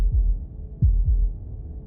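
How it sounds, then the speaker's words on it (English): Deep heartbeat thumps in the video game Slay the Princess, a few slow, heavy, close pulses over a low steady hum, no voices. "That was the sound of a heartbeat, followed by another, and another."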